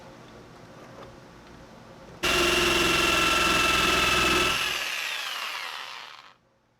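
A power tool cuts and trims away the wooden base of a mechanical record player, starting abruptly with a loud, steady high-pitched whine that holds for a few seconds, then tapers and winds down to quiet.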